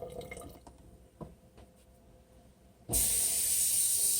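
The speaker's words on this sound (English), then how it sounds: "But I'll just keep pouring water in there. See there, just pour the water." Water is poured into a container while making homemade wine. A few faint drips and taps come first, then a loud, steady rushing pour sets in abruptly and carries on to the end.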